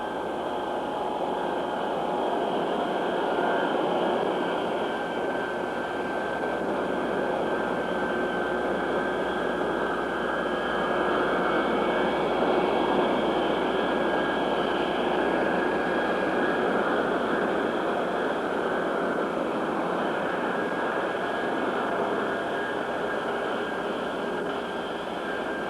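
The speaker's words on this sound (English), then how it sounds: "Boeing 707 cleared down the active runway into position at the south end." The Boeing 707 prototype, the Dash 80 jet, taxis in 1955 with a steady, unbroken roar and whine of its engines that holds at an even level throughout, with no voices.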